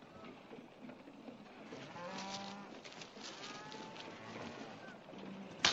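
A herd of cattle lows in the open, with several drawn-out moos overlapping at a moderate distance over a faint windy background.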